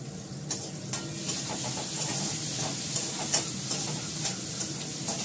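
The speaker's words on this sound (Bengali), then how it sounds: "জিরে ফোড়ন দিলাম। এটাকে নাড়াচাড়া করবো" Cumin seeds temper in hot oil, a dense continuous sizzle with occasional soft scrapes and taps of a spoon as they are stirred, close and steady throughout.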